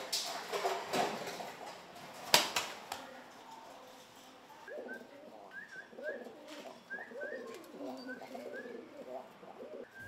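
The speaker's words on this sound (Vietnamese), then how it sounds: "Đàn chim bồ câu được anh nuôi làm cảnh từ khi chúng còn rất nhỏ." Domestic pigeons raised as ornamental birds coo in soft repeated rolling calls, close by amid faint background rustling and a few clunks.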